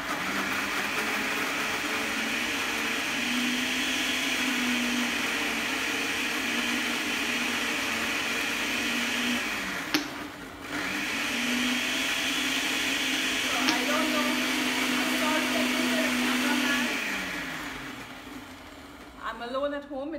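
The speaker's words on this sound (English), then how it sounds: "I'm going to blend this broccoli with a little bit of water." A blender runs for a long stretch as it purees broccoli with a little water, a steady motor whir with a short pause near the middle before starting up again, then winding down at the end.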